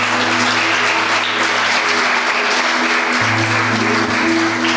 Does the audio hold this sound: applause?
yes